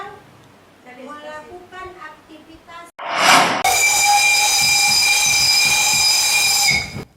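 Mak Itam, a steam tourist train at the old mining town of Sawahlunto, lets out a loud sustained whistle after a sharp burst of steam hiss, following a few seconds of background speech and clatter.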